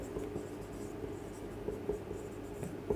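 Maths being written on a board in a classroom lesson, a faint continuous scratching of strokes with soft taps over low room tone, no voices.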